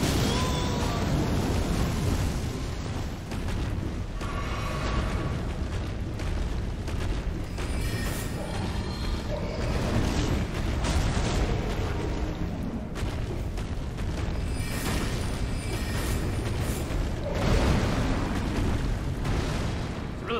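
A large dragon breathing fire during an Elden Ring boss fight, a sustained roaring blast of flame with rumbling booms and bursts that swell and fade across a long stretch of loud, dense game noise.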